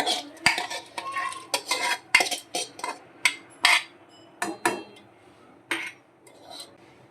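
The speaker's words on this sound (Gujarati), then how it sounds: "હવે ભાત એમાં નાખી દઈશું." In a home kitchen, rice goes into a pot of boiling water for jeera rice, with a series of sharp metallic clinks and scraping stirs from a spoon against the pot, irregular and close.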